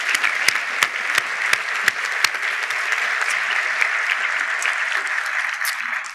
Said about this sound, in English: please join me in giving all those folks a round of applause